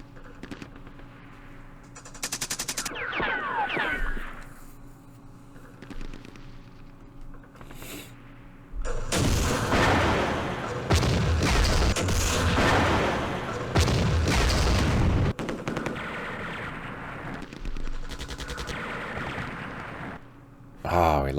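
Artillery fire from an M53 self-propelled gun in the Vietnam war game Campaign Series Vietnam, Battle of Hue: loud, dense bursts of booming shots and gunfire that build into sustained rattling volleys, with brief quieter gaps.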